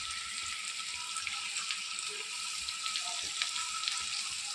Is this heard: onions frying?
yes